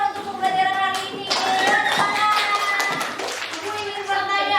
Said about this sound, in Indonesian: coba tepuk tangan untuk pembelajaran hari ini